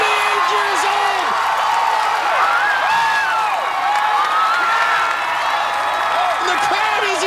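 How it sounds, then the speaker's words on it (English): A steady roar of crowd cheering and applause fills the American Ninja Warrior arena after a 48-year-old competitor completes a transition. It stays loud and continuous throughout, with an excited commentator talking over it. "The crowd is erupting!"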